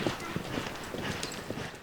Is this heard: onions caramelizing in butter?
no